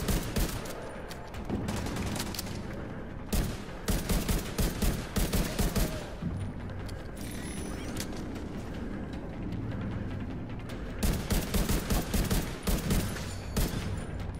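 Machine gun fire in the video game The Division 2, with several dense bursts of rapid automatic shots and other gunfire over a constant loud battle rumble; no talking.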